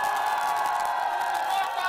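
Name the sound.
crowd cheering and acclaiming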